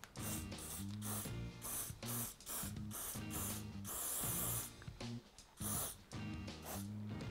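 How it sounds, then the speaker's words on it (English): Hairspray hisses from an aerosol can in repeated bursts of varying length onto ink marks on a Louis Vuitton Empreinte Speedy leather handbag, close and clear with short pauses between sprays. "we'll apply something that you all have at home, and that's a hairspray"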